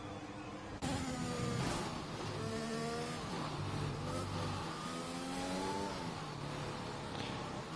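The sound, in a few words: race cars driving off track in F1 2021 video game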